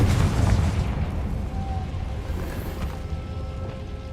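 A Confringo blasting spell explodes in Hogwarts Legacy, a loud booming burst that rumbles and decays over a few seconds, with a faint voice in the background.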